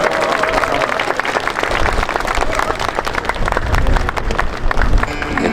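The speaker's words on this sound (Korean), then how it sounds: "큰 박수로 앞으로 모시겠습니다" Crowd applause welcoming a group of Catholic sisters forward to sing at a Mass for justice for comfort women, dense and sustained with some crowd noise mixed in throughout.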